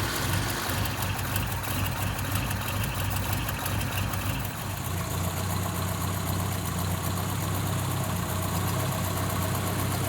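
A car engine fitted with a Holley 5200 carburetor runs at a steady, close idle with a continuous low rumble and even pulsing throughout.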